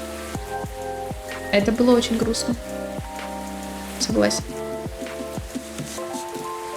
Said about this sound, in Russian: Сидеть в безопасности, слушать, как снаружи идет дождь.